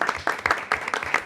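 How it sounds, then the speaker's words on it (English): A small group at a school committee meeting claps for student presenters. The sparse, uneven claps come close together in short bursts, near and moderately loud. "So we can applaud for"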